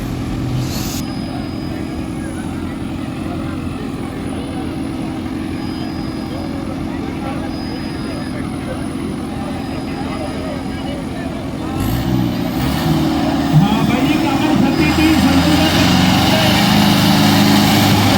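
A New Holland tractor engine drones steadily under load while pulling a trolley out, a loud low rumble that grows heavier and harsher partway through as the effort increases.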